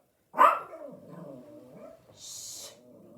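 A pet dog barks indoors, one loud sharp bark followed by lower, drawn-out grumbling growls and a short whine, close by with no talking.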